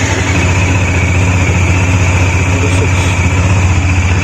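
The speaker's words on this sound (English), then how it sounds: "You got to keep the engine running, because the engine has to flush out basically." A Bajaj Dominar 400 motorcycle engine idles with a Liqui Moly engine flush treatment added: a loud, steady, close low drone with an even throb and no let-up.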